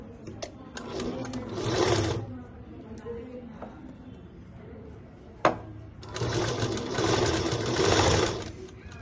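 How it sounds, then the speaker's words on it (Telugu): A sewing machine stitches the edge of a school skirt in two loud bursts of rapid whirring separated by a pause with a sharp click, and a person talks between the bursts. "ఇప్పుడు దీన్ని కుట్టు వేసుకోవాలి. ఫస్ట్ ఎడ్జి కుట్టు వేసుకోవాలి."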